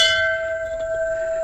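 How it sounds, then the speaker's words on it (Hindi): A temple bell at a cave shrine rings out with one struck tone that hangs in a steady, loud, sustained metallic hum, fading slowly with no voices. "घंटी बजाते हुए जाएंगे।"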